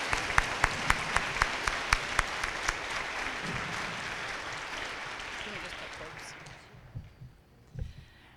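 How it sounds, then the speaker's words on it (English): A school awards crowd gives a warm round of applause for helping teachers, with dense clapping and a few distinct sharp claps up front that fade out after several seconds into quiet room noise. "If we could give all of them a great round of applause."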